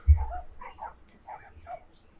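In the video game The Last of Us Part 1, a dog gives several short, muffled barks and yips at moderate distance, spread over a couple of seconds with a thump at the start.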